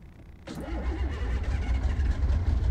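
A truck engine in Euro Truck Simulator 2 cranks over and catches, settling into a steady low rumble that keeps running close up.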